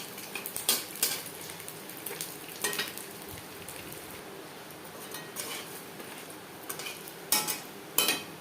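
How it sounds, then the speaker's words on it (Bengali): Dried red chillies frying in hot oil in a wok, with a soft steady sizzle and occasional sharp clinks and scrapes from a stirring spoon, heard close with no talking. "লঙ্কা ভেজে নেওয়ার পর"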